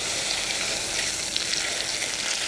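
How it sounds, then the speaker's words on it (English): Butter and onions sizzle steadily in a hot pan, a dense, close crackling hiss. "Oh, nice and sizzle. Pan is nice and hot."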